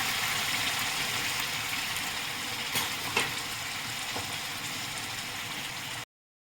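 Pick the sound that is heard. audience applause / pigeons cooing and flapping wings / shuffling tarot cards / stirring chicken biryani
stirring chicken biryani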